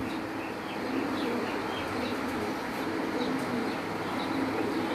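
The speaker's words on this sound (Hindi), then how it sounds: "इनके पास उस्ताद अकमल के दिए हुए कबूतर हैं" Pigeons cooing softly on a rooftop loft among a Pakistani fancier's cross-bred birds, low murmuring coos under steady outdoor background noise with occasional faint chirps.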